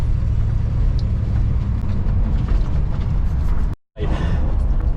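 A car reversing on a level road with a transmission fault that slips under too much gas, heard as a loud, steady low engine rumble inside the cabin, with a brief sudden dropout near the end.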